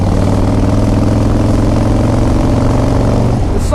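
Chopper motorcycle engine running around 2,500 RPM while riding on cold, wet, icy snowy roads, a loud, close, continuous low rumble with a steady pulsing throb throughout.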